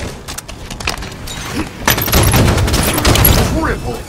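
Sniper rifle fire in the Halo 5 multiplayer video game, sharp gunshot-like bursts over loud, busy game sound with rumbling effects and announcer-style voices.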